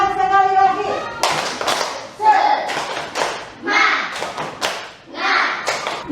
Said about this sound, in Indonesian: Tepukan semangat sekali lagi.